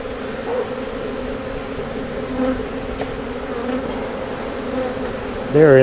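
Honeybees at a beehive hum in a steady, dense drone throughout, close and continuous, with a slightly louder, wavering buzz near the end as a bee passes right by.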